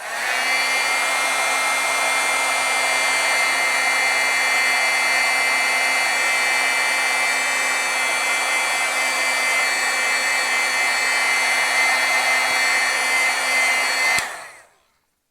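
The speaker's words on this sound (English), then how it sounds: "I just think it's a safe bet just to heat set it" A heat tool heat-setting stamped ink blows with a steady, loud, continuous whirring hiss for about fourteen seconds close by, then cuts off abruptly, with no talking.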